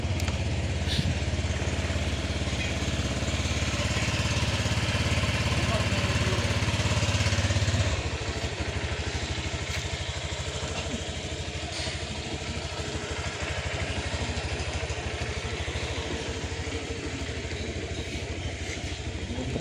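Honda Click v4 scooter engine with a running issue, idling with a steady, close putter that drops in level after several seconds and continues at a lower, uneven chatter to the end, no one speaking.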